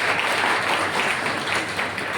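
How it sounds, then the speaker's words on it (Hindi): Sustained applause for selected NEET medical entrance students at a coaching class event, a dense steady clatter from a gathered crowd, fairly close, with no voices over it. "तालियां बजती रहनी चाहिए"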